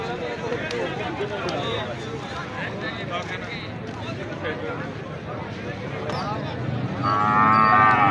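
Cattle moo at a busy livestock market in Kharian, Punjab, with calls rising over constant crowd chatter and nearby voices, growing louder toward the end.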